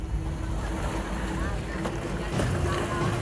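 Ganga-Yamuna floodwaters roar past a bridge in Prayagraj, a loud, continuous rushing wash with gusty noise that swells slightly near the end.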